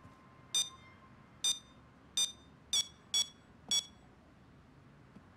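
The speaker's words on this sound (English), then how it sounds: "There's two 10-sec alarm boxes we need to disable." Alarm box in the video game Payday (Firestarter heist) emitting six short, sharp electronic beeps at irregular intervals, fairly loud over a quiet low background hum.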